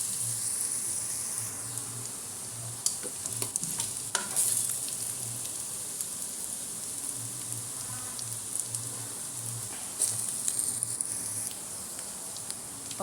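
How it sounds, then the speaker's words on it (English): Garlic and onions fry in a pan for pilau, a soft continuous sizzle with scraping stirs and occasional clinks, fairly quiet and close, with no talking. "you have to put in the garlic when the onions are almost golden brown"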